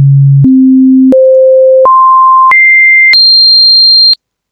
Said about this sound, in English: let's go from key Z all the way to key M on the sine wave